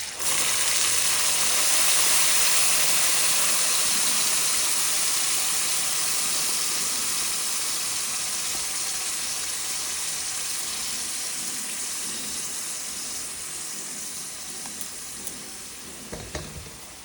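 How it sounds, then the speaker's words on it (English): A ground masala paste of ginger, garlic, onion and tomato hits hot oil, giving a loud, dense, continuous sizzle and splutter that slowly eases over the stretch, close by with no talk. "I have learned not to talk when the masala splutters in the oil."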